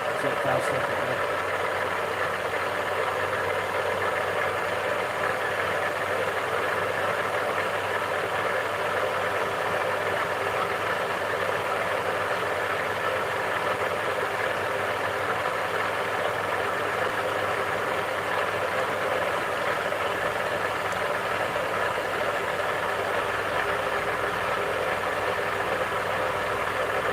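An engine runs steadily at about 1200 RPM, making an even, continuous droning hum with a faint mechanical rattle that holds at a constant level throughout.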